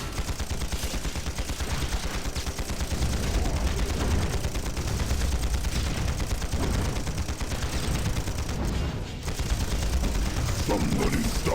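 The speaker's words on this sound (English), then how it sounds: "And guns firing from all directions" Dense gunfire erupts from all directions in the online battle game Panzar, rapid overlapping shots and bursts forming a loud continuous barrage with a brief lull near the end.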